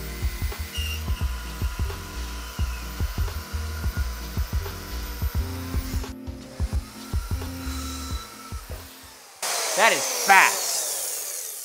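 A Harbor Freight Hercules band saw cuts quickly at full speed, producing a steady whirring with rapid rhythmic chattering pulses, and a person briefly speaks near the end.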